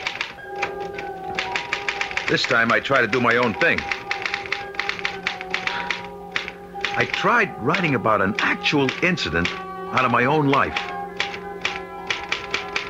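Manual typewriter keys clatter in a radio drama about a frustrated writer, a steady run of taps with a bell-like tone, heard beneath someone narrating and music.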